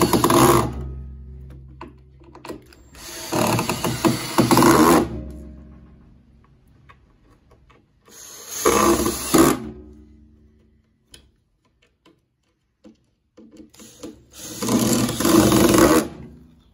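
A soapbox car body is riveted in three separate bursts of rapid, close mechanical rattling, each lasting a couple of seconds, with quiet gaps and faint clicks between them.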